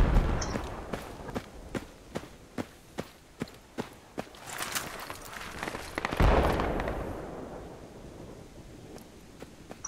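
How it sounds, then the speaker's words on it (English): Gunfire in the military shooter Project Reality: a steady series of about a dozen sharp, evenly spaced shots over the first four seconds, then a louder rumbling boom or passing truck noise that fades out. "There's large trucks going back and forth, and there's two guys shooting."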